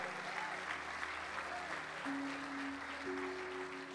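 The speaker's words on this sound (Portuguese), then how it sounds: "Aplauda o Senhor." A church congregation claps in praise, a steady wash of applause under a sustained keyboard or organ tone. People also talk faintly in the background.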